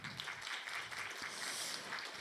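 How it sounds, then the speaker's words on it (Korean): Applause from an audience after a lecture at an international symposium, a dense steady wash of clapping with no individual claps standing out. "그럼 박수 부탁드립니다."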